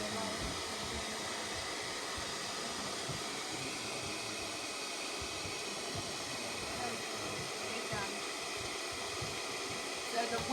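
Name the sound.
hair dryer blowing air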